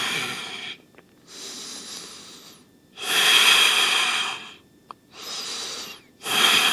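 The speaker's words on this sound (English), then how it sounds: "Inhale to lower. Exhale to round." Slow, deep breaths during a yoga floor exercise, each inhale and exhale a long airy rush lasting a second or two, alternating with short quiet gaps, close and clear with no talking.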